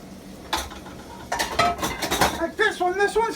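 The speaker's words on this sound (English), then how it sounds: "You get a frying pan like this one" Metal cookware clanks and scrapes as a frying pan is picked up and set down, a few sharp knocks followed by lighter rattling, close by.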